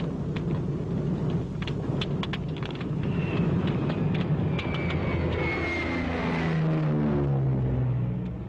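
A WWII P-38 Lightning fighter, its lead plane on fire during an emergency landing call, roars past with steady engine drone and a falling pitch sweep as it passes, loud and unbroken, no talk.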